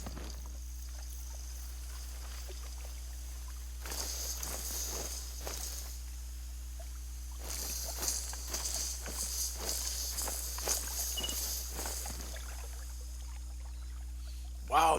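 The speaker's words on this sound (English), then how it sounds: "Sure as hell sounds like something walking through the water." Wading through shallow water among duck decoys in theHunter Call of the Wild, a string of soft splashing, swishing steps in bursts over a steady low hum, moderately close and without talk.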